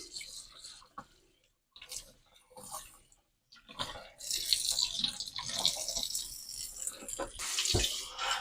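Catfish are rinsed under running tap water in a sink, with irregular splashing and gushing that starts and stops in bursts, brief quiet gaps early on, then more continuous close-up water flow.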